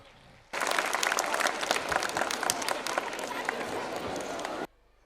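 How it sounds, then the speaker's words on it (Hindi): At an annual school function, a crowd gives loud, dense applause to welcome a guest, starting suddenly and stopping sharply after about four seconds. "जोरदार तालियों के साथ हमारे अतिथि महोदय का स्वागत।"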